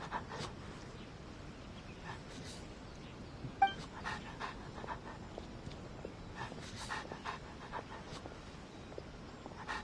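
A wary dog in the Genshin Impact video game pants steadily with a few soft whimpers, quiet and close against a faint hiss of background ambience, with no talking.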